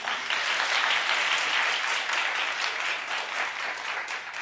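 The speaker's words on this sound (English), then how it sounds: "Clap if you think so." A television studio audience claps together in a steady, dense burst that holds evenly and tapers slightly toward the end, with no talking over it.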